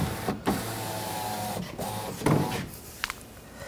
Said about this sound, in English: we're going to lower the window down.